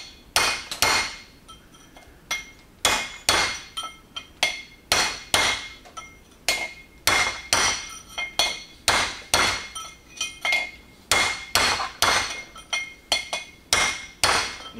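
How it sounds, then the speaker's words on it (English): A steel punch is struck repeatedly with a hammer to drive out a stuck part, sharp metallic clinks ringing in quick uneven bursts of two or three blows with brief pauses, close and loud with no speech. "We're using a steel punch, but we're going to be very careful with it."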